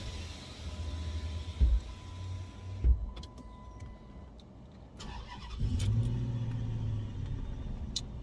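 A car engine cranks and catches around the midpoint, settling into a low, steady idle rumble. Before it, a couple of brief thumps and a faint electric whine are heard. No one speaks.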